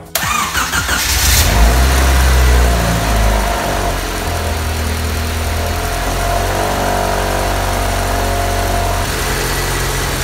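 A car engine with a loose, rattling mount cranks briefly, then catches and settles into a loud, steady idle right up close, with no talking.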